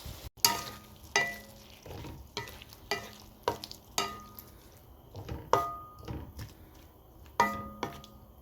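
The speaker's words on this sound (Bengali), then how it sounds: "আমি চিংড়ি মাছগুলোকে আগে হালকা ভেজে নেব, সাথে পেঁয়াজও দিয়ে দিয়েছি।" Prawns and onions fry in hot oil in a pan, a soft steady sizzle broken by about a dozen sharp scrapes and clatters of a spoon stirring against the pan, close and fairly quiet.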